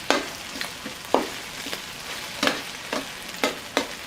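Eggs being added to a hot pan while cooking Penang-style fried oysters: a steady soft sizzle broken by several sharp scraping or stirring clicks at irregular intervals, close and fairly quiet, with no talk.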